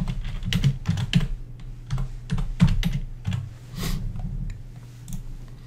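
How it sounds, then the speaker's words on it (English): Keys clack on a computer keyboard during Excel form editing, a short irregular burst of close, crisp taps with no one talking. "and I can type the name in"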